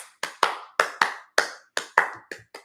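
Sharp hand claps ring out nearby in an uneven rhythmic pattern, about ten crisp hits over a few seconds, clapped as part of a chant with no voices heard.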